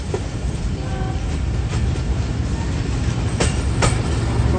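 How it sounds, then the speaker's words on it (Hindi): A Pakistan Railways freight train rolls past at close range, a steady loud rumble of wheels and wagons with rhythmic clicks from the rail joints and a few sharp metallic squeals. "मालगाड़ी है भाई"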